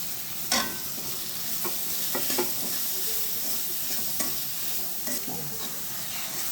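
Chopped coriander leaves frying with spice powder in a pan give a steady, close sizzle, and a spatula scrapes and taps now and then as they are stirred, with nobody speaking.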